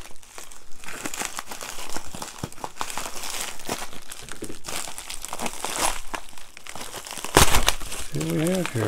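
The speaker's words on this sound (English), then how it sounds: "Cut into the second package, which is okay." Plastic shipping packaging crinkles and tears as a box of junk constitutional silver coins is cut open and unwrapped, steady close rustling throughout, with a sharp crunch near the end and a voice speaking briefly.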